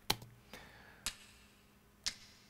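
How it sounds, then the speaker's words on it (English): Four crisp sampled finger snaps played from an EXS24 sampler, spaced unevenly, each sharp and close with a short ringing tail, over near silence. "So there's a few different finger snaps going on here."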